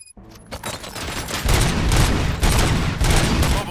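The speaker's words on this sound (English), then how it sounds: "Gunshots? What's going on?" Gunfire erupts in RoboCop: Rogue City, a dense fusillade of loud, rapid shots that builds after a brief quiet start and keeps hammering in bursts to the end.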